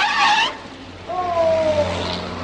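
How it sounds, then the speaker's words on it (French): A comedy sketch car screeches loudly with its tyres, then a second, thinner squeal glides downward as it runs over something. The two sounds are brief and close. "La voiture, elle a passé dessus."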